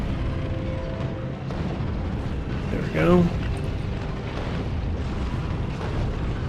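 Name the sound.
cannon shells exploding in the video game Factorio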